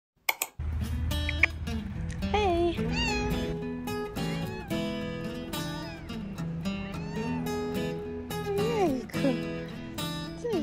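A cat meows repeatedly up close, with drawn-out, wavering cries and short pauses between them, fairly quiet overall.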